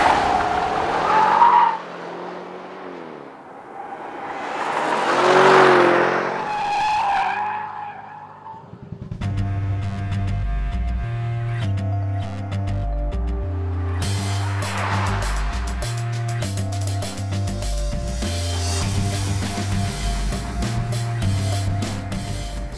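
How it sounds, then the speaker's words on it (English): A 2013 BMW Alpina B7 driven hard on a mountain road, with squealing tires and skidding in the first half, then a steady engine drone under loud music. "So I'm very impressed by how the B7 handles a mountain road."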